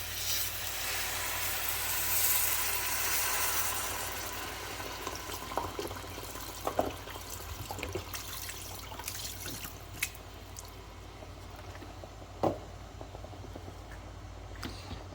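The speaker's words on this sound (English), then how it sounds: "There's our spinach, and we're going to pour in the broth." Broth poured into a soup pot of spinach for potato cheese soup florentine, a steady close liquid pour with soft splashing and a few drips, continuous and alone without talk.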